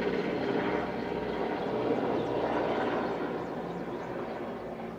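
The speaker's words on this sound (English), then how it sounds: "There was a chopper, a helicopter." A helicopter flies overhead with a broad, steady rotor and engine roar that stays loud throughout and eases slightly toward the end; no one talks.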